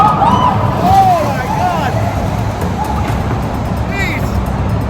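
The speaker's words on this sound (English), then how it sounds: "There are moments when the traffic is just nonstop" Nonstop road traffic rolls past in a loud continuous rumble of cars and trucks near a tunnel in the American West, with a voice talking over it.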